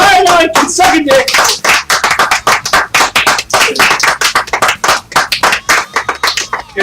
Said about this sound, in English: Everyone come into the room and clap for Akash.